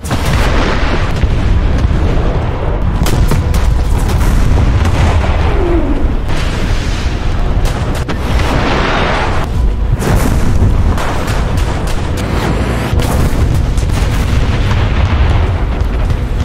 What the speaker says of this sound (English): the SPAs can shoot their missiles over objects quite easily, knocking them out